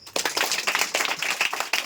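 Short burst of clapping from a group of village children at a general-knowledge quiz, a patchy, uneven patter of hands lasting under two seconds, fairly close.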